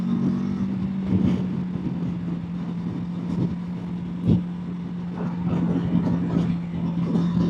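Kawasaki Versys 650 motorcycle engine pulling in third gear, a steady loud drone holding an even pitch with slight swells as the throttle opens, continuous through the stretch.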